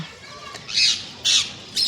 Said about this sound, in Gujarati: પોપટ એટલા મસ્ત બોલું છે